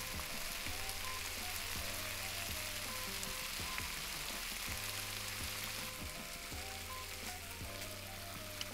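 Tuna fillet sizzling steadily on a grill in the video game Cooking Simulator, a continuous close frying hiss with background game music and no talk.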